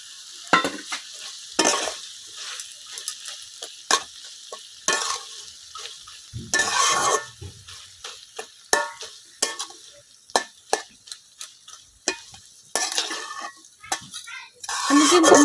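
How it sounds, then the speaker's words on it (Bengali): Fish roe and half-boiled potatoes stirred while frying in a pan in a village kitchen: repeated scraping stirs over a steady sizzle, close and fairly loud, with no talking. "আমি কিন্তু মাছের ডিমটা আলুর সাথে খুব ভালোভাবে মিশিয়ে নিয়েছি।"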